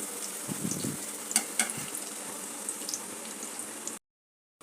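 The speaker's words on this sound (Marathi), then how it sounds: "ते आपल्याला गुलाबी रंगावरती फ्राय करून घ्यायचे आहेत।" Four medium chopped onions frying in a pan for chicken, a soft steady sizzle with a few faint clinks, fairly quiet and without talk, cutting off abruptly near the end.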